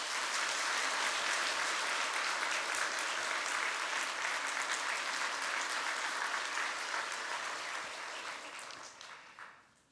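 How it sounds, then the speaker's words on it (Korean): A church congregation at a pastor's installation service applauds a newly installed pastor with sustained, dense clapping that fills the large sanctuary and fades out at the end. "우리 안 목사님 다시 한 박수로 환영해"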